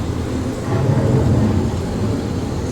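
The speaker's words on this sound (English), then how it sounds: "The approaching storm may seem violent and destructive to us, but to nature, it's a new beginning in the cycle of life." Thunderstorm sound effect inside the Epcot Living with the Land boat ride, a dense low rumbling roar that swells after the first half second and holds steady to the end with no talk over it.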